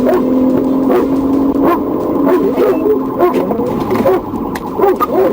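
Stolen blue Mitsubishi accelerates hard through traffic during a police pursuit, its engine droning loud and close with rising tones, mixed with road noise and a faint distant siren-like whine.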